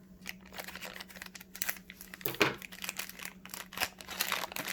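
Plastic packaging around a wireless indoor hygrometer thermometer crinkles and tears as it is cut open, quiet irregular rustling bursts with a louder rip midway, close by and without talk.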